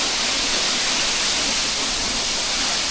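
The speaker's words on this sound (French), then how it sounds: "Putain, c'est la tempête à la cascade, on voit plus rien à la caméra." Munduk waterfall in Bali during a storm: a loud, unbroken broadband roar of falling water close by, with no voices.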